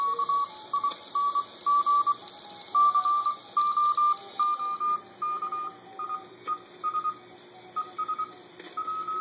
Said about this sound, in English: You can hear the Morse code going.